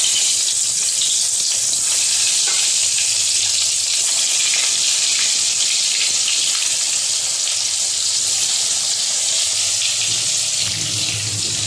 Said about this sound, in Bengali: এখানটায় বেগুন ভাজা বসিয়ে দিলাম